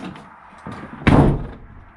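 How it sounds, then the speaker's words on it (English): A Volkswagen T5 van door is slammed shut with one loud, close thud and a brief rattle, after quieter handling sounds. "I do hate this door. Listen to this."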